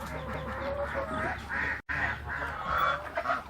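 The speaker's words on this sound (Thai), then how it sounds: "มีพวกเป็ดเทศนะครับ" Muscovy ducks on a Thai farm, a run of honking, nasal calls rising and falling in irregular bursts against low background noise, with a brief dropout midway.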